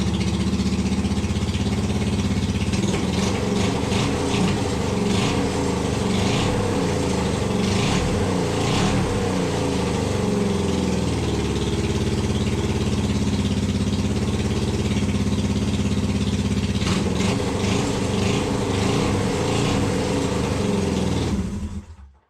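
A Honda CL350 Scrambler motorcycle engine runs loudly and roughly at idle, its holed exhaust giving a raw, rattling blat that continues steadily for a long stretch.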